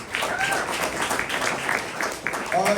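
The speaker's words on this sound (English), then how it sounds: "round of applause for CodeWords" An audience at a tech demo night applauds steadily, a dense wash of clapping from many hands with a few cheers and whistles, while a voice talks faintly over it.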